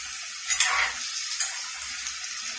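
Onion pakoras deep-frying in hot oil give a steady bright sizzle, with a few soft stirring scrapes breaking through near the middle of the pan's hiss.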